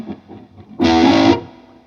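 A distorted electric guitar plays a short burst of the riff from a song. A quiet lead-in gives way to a loud, thick chord that holds for about half a second and then fades.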